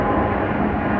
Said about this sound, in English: We got a departure that looks like a Boeing 737 Delta.